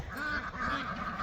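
Farm ducks quack in a rapid, overlapping chatter, several birds at once in a fairly faint, continuous burst.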